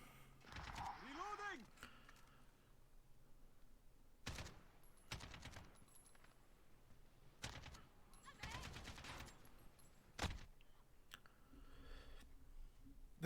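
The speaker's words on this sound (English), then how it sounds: "So at this point I'm shooting bullets in there, I'm shooting missiles in there." Gunfire and missile launches in an online shooter game come as scattered short bursts and single sharp shots, with clicking in between, fairly faint overall.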